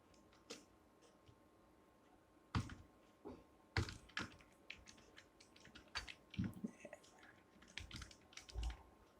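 Computer keyboard being typed on while writing code in a Django weather API project, with quiet, irregular clicks and short bursts of keystrokes nearby, some louder taps standing out against a faint background hum.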